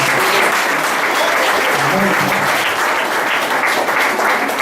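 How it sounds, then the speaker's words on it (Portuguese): A church congregation applauds loudly and continuously, thick clapping filling the room with faint voices mixed underneath. "Aplauda o nome do Senhor Jesus."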